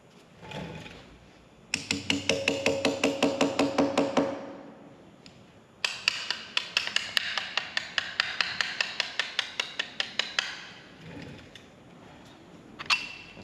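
A plastic hammer tapping on a part of a 361 Edsel engine during assembly, two long runs of quick, evenly spaced taps with a short pause between, close and fairly quiet in a quiet workshop.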